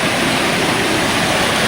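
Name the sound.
Arikkuzhi waterfall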